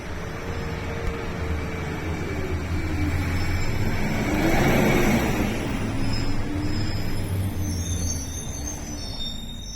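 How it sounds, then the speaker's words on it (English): A garbage truck passes outside, a broad low rumble of engine and road noise that swells toward the middle and fades again, steady and fairly loud, with no talking. "That there was a garbage truck."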